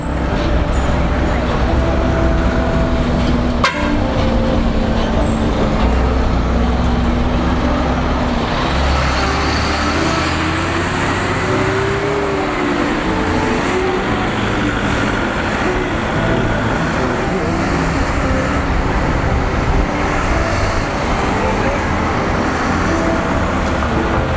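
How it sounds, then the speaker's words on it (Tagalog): A bus rumbles close behind on a busy Manila road near Luneta and Intramuros, with steady traffic noise throughout and people chatting over it. "Habang may bus sa likod natin."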